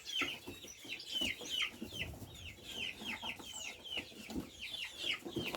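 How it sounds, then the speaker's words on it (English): Hybrid local common fowl in Trinidad cluck repeatedly in short, close, moderately loud calls against a quiet outdoor background. "these is hybrid chickens. Local common fowl as we call it."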